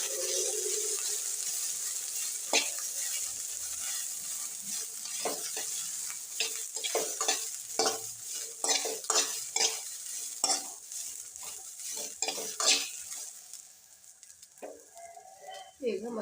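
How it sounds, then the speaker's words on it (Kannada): Cluster beans are stir-fried in oil over a high flame, with a continuous loud sizzle broken by repeated scraping stirs of the spatula against the pan. "ಇದು ಒಂದು ಸ್ವಲ್ಪ ಜೋರಿಟ್ಟು ಹುರಿಬೇಕು."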